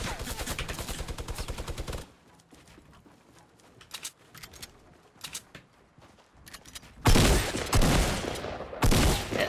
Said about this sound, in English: Minigun, are you serious?